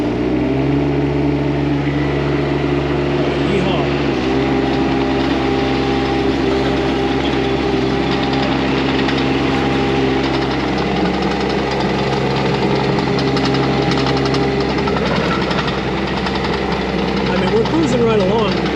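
Huayee SHY12 mini excavator with a Kubota diesel engine and piston pump, running at full throttle: a loud, steady diesel drone with a strong low hum that holds unbroken throughout, with voice faintly present under it.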